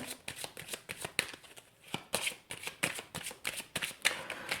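Petit Lenormand cards being shuffled by hand, a rapid run of crisp riffling flutters and soft slaps, close and fairly quiet, with no speech.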